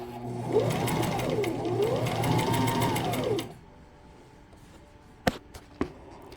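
A sewing machine stitches a two-tone flare skirt in a steady, loud mechanical run for about three seconds, then stops, leaving quiet room tone broken by a few sharp clicks near the end.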